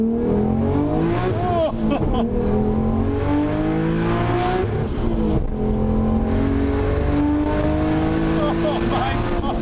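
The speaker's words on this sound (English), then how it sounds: "the exhaust on this is dramatically loud" A Nissan Skyline GTR R33 drones with a loud, booming exhaust, its engine note rising and falling through revs, with people talking over the continuous roar from inside the car.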